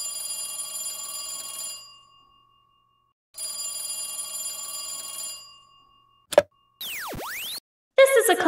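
An old landline telephone bell rings in two long bursts with a pause between them, loud and close in a quiet room, followed by a few brief electronic clicks and tones.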